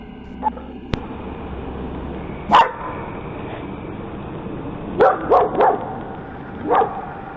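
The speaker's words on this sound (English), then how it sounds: "One of the dogs notices it and barks after it comes out" A dog barks outdoors at night, picked up by an outdoor ring camera: an isolated bark early on, then a quick cluster of three barks and one more, moderately distant over a steady low background hum.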